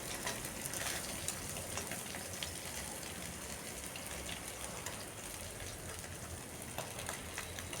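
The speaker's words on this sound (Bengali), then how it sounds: "একদিকটা কড়া ভাজা হয়ে গেছে, অপর দিকটা আমি ভেজে নিচ্ছি।" Small mourola fish fry in hot oil as a steady, dense, even sizzle with occasional crackles that continues unbroken from start to finish.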